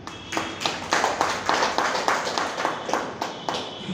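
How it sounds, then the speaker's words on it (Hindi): An audience at an RSS publicity event honouring journalists claps together in a steady, rhythmic burst of applause that carries on evenly throughout. "ऐसे समाज के लिए एक बार जोरदार तालियां"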